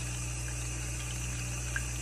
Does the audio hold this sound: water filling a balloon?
yes